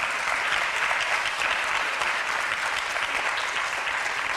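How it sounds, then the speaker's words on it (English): A lecture audience claps for the speakers at the close of a talk, steady, even applause from a crowd, heard from a distance and fairly faint throughout. "Can we just have one last round of applause for our speakers?"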